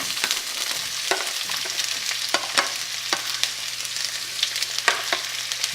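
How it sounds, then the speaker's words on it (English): Onions and whole spices fry in about three tablespoons of hot oil for a Balti chicken curry, a steady bright sizzle with frequent sharp scrapes and clicks from stirring, close and moderately loud, with no talking. "we are going to fry our spices along with onions."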